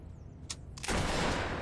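Gunfire in the video game Fable 3, a sharp shot near the half-second mark and another just before a sustained loud burst of rapid shooting that fills the rest of the clip.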